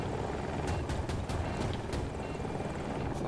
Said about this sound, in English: Shoot the chopper.